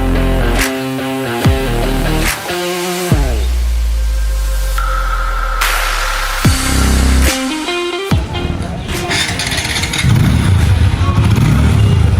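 A TVS Apache RTR 160 2V ABS motorcycle engine revs up and winds down in loud bursts with shifting pitch, then settles into a rougher, steady running roar near the end.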